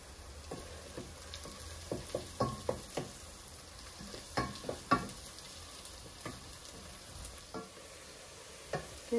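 Meat sautés in a pan for a rice pilaf, a soft underlying sizzle punctuated by repeated sharp scrapes and taps as it is stirred, irregular and close by.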